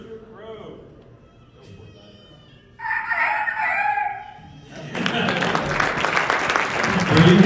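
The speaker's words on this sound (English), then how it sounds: "Rooster Crow." A rooster crows loudly once at a rooster crowing contest, then a crowd bursts into applause and cheering that grows louder; a voice speaks briefly at the start.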